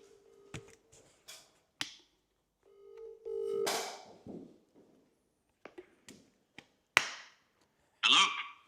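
Phone call being placed for a prize-draw winner: sparse clicks and taps, a steady tone burst near the middle, then more sharp clicks and a brief bright ring-like burst at the end, with no talk.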